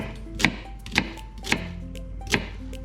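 Four sharp knife chops halving vegetables on a cutting board, spaced irregularly, with a faint background tone and no talking.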